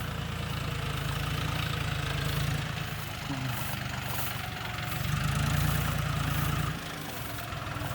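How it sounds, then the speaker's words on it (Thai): A 5040D tractor ploughing hard soil, its diesel engine chugging steadily up close, with shifts in pitch and load as a gear engages, and no talking. "ฟังเสียงเข้าเกียร์นี่ยังไม่ชิน"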